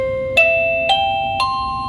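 A PLACUY 2K wireless video doorbell chime plays three clear rising electronic tones, evenly spaced and close, ringing out over a quiet room.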